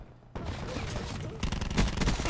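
Gunfire in the shooter game Black Ops 4, including shotgun blasts, crackles in a rapid burst of overlapping shots that grows louder and denser in the second half, close and sharp.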